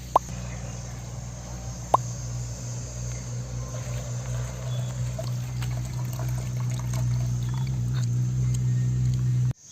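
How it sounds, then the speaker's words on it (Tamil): Tender coconut water pours steadily into a container to make instant coconut toddy at home, a continuous close trickle with a couple of small plops near the start, no talking. "இப்போ இளநி தண்ணி ஊற்றிட்டீங்க"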